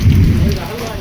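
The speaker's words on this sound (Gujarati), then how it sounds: "ઠણક વરસાદ આવે જુઓ." Heavy rain during a storm in Chobari village, a dense steady wash of downpour close by throughout with a low rumbling undertone, no voices.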